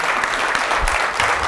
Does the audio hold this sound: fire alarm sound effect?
no